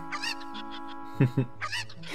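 Chickens in The Legend of Zelda: Ocarina of Time cluck in repeated game calls, with two louder squawks in the middle and talk running underneath.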